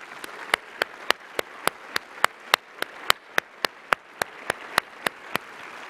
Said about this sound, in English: please join me in another round of applause for all of our honorees